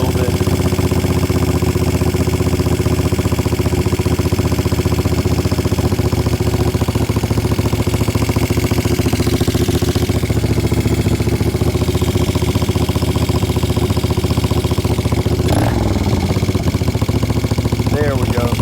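A 1975 Moto Guzzi cafe racer engine runs steadily at a loud, close idle throughout, with a faint clunk near the end and a voice talking over it.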